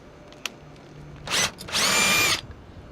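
A power drill opening up bolt holes in a metal stabilizer bracket, two short whirring bursts, the second longer and sustained, after a faint click, no voices.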